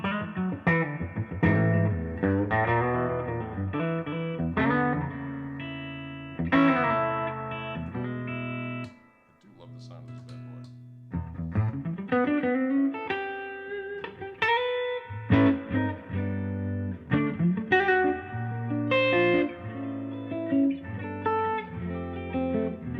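Electric guitar fitted with Fishman Fluence pickups, played through effects with a distorted, chorused tone: a busy lick-filled blues passage with bent notes and a short pause in the middle, loud and alone.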